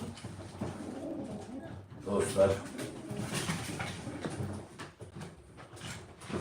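Pigeons coo softly in the background while someone talks over them, with some clattering and shuffling noises nearby.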